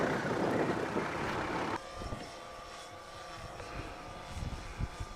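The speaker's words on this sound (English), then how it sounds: "Dad's got his drone up again." A small camera drone flies overhead at a remote outback rail site on the Nullarbor, a steady droning buzz with tonal whine lines, louder at first then settling to a fainter, continuous hum with scattered knocks beneath.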